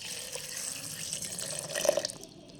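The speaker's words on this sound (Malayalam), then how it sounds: "അതിനകത്ത് ഒരു 1/2 ഗ്ലാസ് വെള്ളം ഒഴിക്കണം" Half a glass of water pours into a mixer jar holding pomegranate seeds, a soft continuous splashing trickle, close and fairly quiet, briefly swelling before it tapers off.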